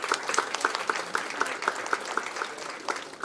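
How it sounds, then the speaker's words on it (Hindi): An audience at a science festival opening ceremony applauds steadily, many hands clapping in a dense, continuous patter with some sharper individual claps standing out. "तालियां बजती रहनी चाहिए।"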